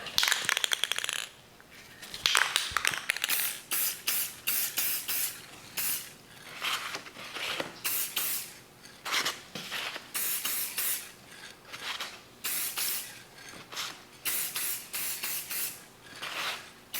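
Aerosol spray paint hisses in repeated bursts of a second or so, separated by short pauses and faint clicks, as coats go onto Nissan 720 instrument cluster bezels; close and steady, with no talking.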